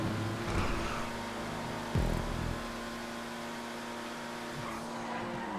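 A race car in GTA 5 brakes on a racetrack chicane, its engine drone steady while a short tire skid bursts out near the middle, then the engine carries on alone.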